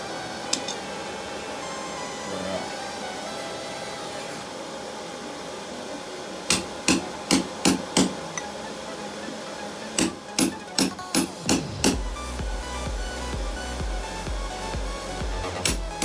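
Blacksmith hammering a drift through a hot steel toasting fork, sharp ringing metallic strikes in two quick bursts of several blows each, close and loud over a steady background hum.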